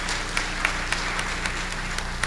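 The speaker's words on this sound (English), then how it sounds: "I gave him a round of applause, he deserves it." Audience applause in a hall at a steel band hall of fame ceremony, a steady wash of many hands clapping with a few sharper claps standing out, moderately loud and continuous.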